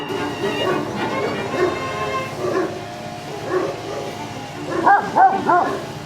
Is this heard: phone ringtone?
no